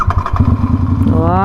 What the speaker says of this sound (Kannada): ಓಕೆ, ಗಾಡಿ ಆನ್ ಮಾಡೋಣ.